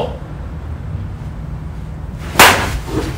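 An aluminum Monsta Banger USA (ASA) slowpitch softball bat, a two-piece design with a half-ounce end load, strikes a ball once with a sharp, loud crack over a steady low outdoor background, followed by faint noise.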